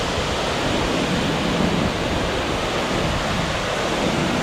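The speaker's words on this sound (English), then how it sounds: "Look at the power of that waterfall." A powerful waterfall along Washington Highway 101 roars in a dense, continuous broadband rush, loud and close, with mist and a chilly breeze in the air and no voices.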